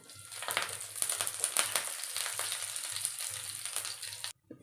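Masala-coated fish fries in hot oil in a pan, a dense continuous sizzle and crackle close up, with a few stirring scrapes, stopping abruptly at the end.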